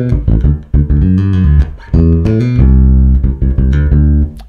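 A bass guitar plays a busy, driving line of quick plucked notes, loud and up close, with no voices.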